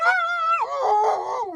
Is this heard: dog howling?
yes